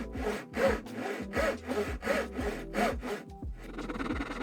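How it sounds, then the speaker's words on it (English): Japanese saw cutting through wood while making a rolling top box, with steady rhythmic strokes about every half second, close and clear, then a short pause and rougher scraping at the end. "I love to using Japanese saws"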